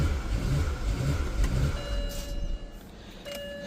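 A 2007 BMW 335xi engine running after a repair and transmission fill: a steady mid-pitched engine drone with slight revving, close and fairly loud, then settling into a smoother idle with a faint whine.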